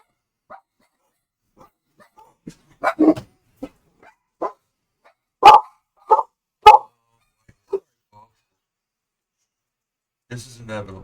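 A dog barks indoors in a few sharp, separate bursts, some single and some in quick pairs, with quiet gaps between and a voice speaking briefly near the end.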